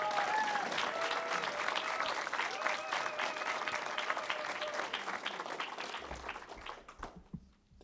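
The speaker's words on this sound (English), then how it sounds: "Let's give a warm round of applause to Dr. Eric Sager." A lecture audience claps and applauds steadily, fairly loud at first, then the clapping thins out and fades away near the end.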